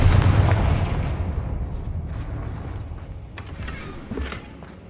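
Confringo blasting spell cast in Hogwarts Legacy, a heavy booming blast that opens loud, followed by a rumbling tail and a few sharper crackling bursts later on.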